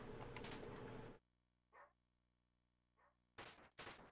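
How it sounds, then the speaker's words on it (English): Dogs in the Metal Gear Solid game, played on original Dreamcast hardware, give two short, fairly faint barks or yips in a quiet stretch, framed by louder game noise at the start and the end. "Here are the dogs."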